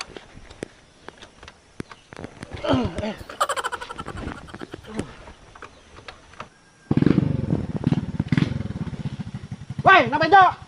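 An old, war-era-looking motorcycle engine putters and revs in bursts, rough and fairly close, while people talk loudly over and between its running.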